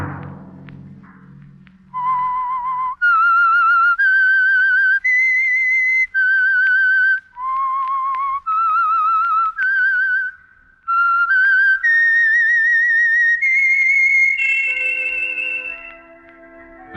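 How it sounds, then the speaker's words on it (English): A lone, clear whistled melody of the eerie theme from the old-time radio mystery program The Whistler, a series of sustained pitched notes rising and falling over about fifteen seconds, preceded by a brief low orchestral sting. "Let that whistle be your signal for the Signal Oil program, The Whistler"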